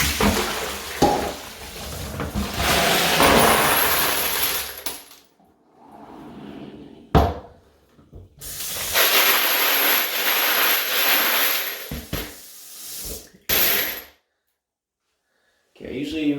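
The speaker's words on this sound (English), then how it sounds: "just dump it into this strainer I have in the sink. It's gonna make a lot of noise." Wet tumbled brass cartridge cases pour noisily into a metal strainer in a sink, a loud, dense rattling cascade in several long bursts with short pauses between, close and harsh.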